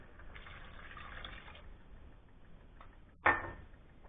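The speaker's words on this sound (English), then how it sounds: "Then add 1 large cup of water." A large cup of water is poured into a soup pot of peppers for traditional Menorcan oliaigua, a soft quiet filling sound ending in a brief louder splash near the end.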